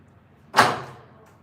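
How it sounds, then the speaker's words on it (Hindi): A door is thrust open hard in a single abrupt burst that peaks sharply and fades over about half a second, set against quiet room tone with no talk. "कितना जोर से दरवाजा खुल रही है।"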